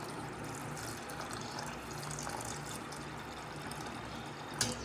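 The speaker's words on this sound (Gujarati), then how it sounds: "જે પાણી આપણે લીધો તો એ પાણી આ રીતે આપણે નાખી દઈશું।" Water pours steadily into a bowl for sweet pudla batter, a continuous close rushing and gurgling with a small clunk near the end.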